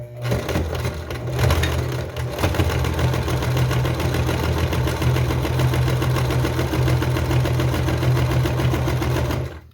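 Sewing machine running steadily as it stitches a zigzag seam on stretchy textile, a close, continuous whirring hum with fast rhythmic needle clatter and no talk.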